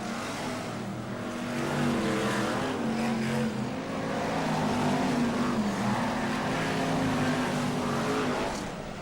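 BriSCA Formula 1 stock cars race at Kings Lynn in 1995, the pack bunched within half a lap, their engines a loud, continuous, layered roar that swells and dips slightly throughout.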